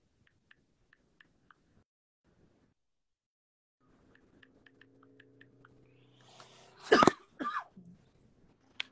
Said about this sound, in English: Stop coughing over here